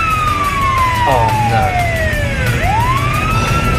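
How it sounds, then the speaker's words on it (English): Police car siren wailing close by, its pitch sweeping down and then swinging back up over steady traffic rumble. "Police car"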